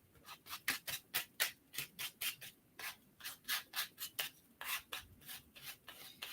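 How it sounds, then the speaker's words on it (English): Rhythmic scraping strokes on a mixed media artwork, a tool dragged through layers of paint down to neon pink underneath; about twenty steady rasping passes, close and fairly quiet, with no talking. "that's kind of scraping through down to some of the the neon pink down in there and giving me some different textures"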